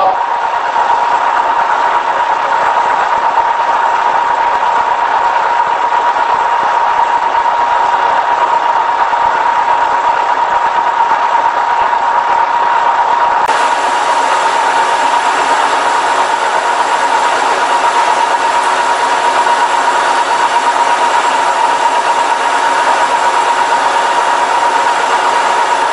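A Kearney & Trecker 2CH milling machine runs at a steady speed, giving a loud, constant mechanical whine and hum that shifts slightly in tone partway through but never stops.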